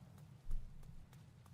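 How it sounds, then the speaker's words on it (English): Footsteps from the video game Marathon, comparing a player's steps with UESC enemy steps: a few soft, thudding low impacts over a steady hum, one heavier step standing out, no talking. "Here's a quick comparison between player and UESC footsteps to help you quickly realize you might not be alone."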